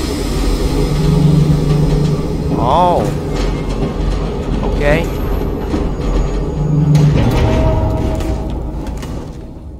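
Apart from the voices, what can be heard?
train starting to move in video game Wolfenstein II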